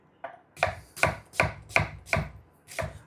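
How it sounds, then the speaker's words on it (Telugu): Knife finely chopping onions on a board: six crisp, evenly spaced chops in quick rhythm, close and clear with no talk. "ఇప్పుడు ఒక 300 గ్రాముల ఉల్లిపాయని సన్నగా కట్ చేసుకుందాం."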